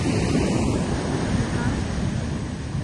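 Sea surf washes onto a beach ahead of an approaching typhoon, a loud continuous roar of waves mixed with gusty wind buffeting the microphone, with no clear voices.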